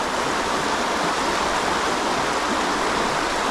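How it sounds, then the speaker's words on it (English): Fast current of the River Teme rushing steadily at close range, a dense, even wash of flowing water with no pauses and no voices. "It's well fast current here."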